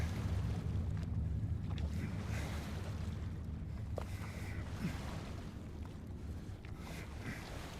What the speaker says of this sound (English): Oh, we be paddling.